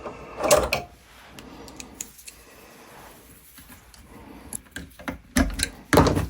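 A belt clip fastened onto a cordless drywall cut-out tool with a Phillips screwdriver: close clicks, ratcheting turns and plastic knocks, with louder handling clatter at the start and end and no talking.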